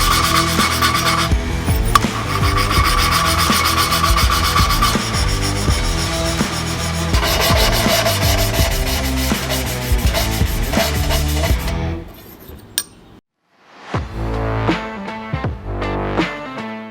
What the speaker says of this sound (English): putting the compound on the edge of the valves and spinning until I hear it spin smooth